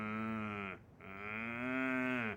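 A cow moos twice in long, deep, droning lowing calls, the first about a second long and the second held longer, loud and close with a short pause between and no talking.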